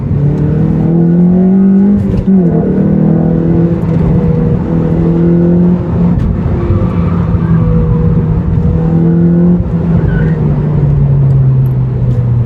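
A 2015 Honda Civic Si engine revs hard and accelerates in second gear, its pitch climbing steadily and loudly, heard from inside the car with road noise underneath.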